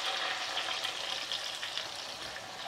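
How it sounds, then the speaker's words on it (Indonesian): Tempeh frying in a pan of hot oil gives a steady, dense crackling sizzle that runs unbroken from start to finish, close and fairly loud, with no talking over it. "kita goreng tempe ya"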